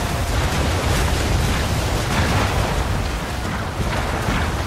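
Heavy, continuous rumbling roar of ship cannon fire in Assassin's Creed 3, dense and loud throughout like sustained broadside blasts blending into noise, with no talk.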